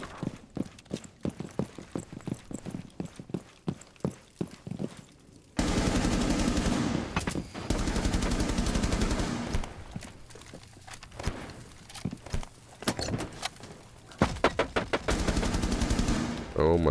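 Gunfire in a Counter-Strike-style game, first as rapid, sharp single shots and footstep-like clicks, then dense sustained bursts, then more scattered shots at the end.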